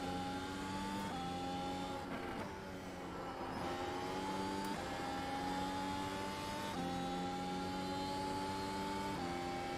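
A Formula One race car engine in the iRacing sim at Virginia screams through rising gear-by-gear acceleration, pitch climbing then dropping at each upshift, steady and loud throughout.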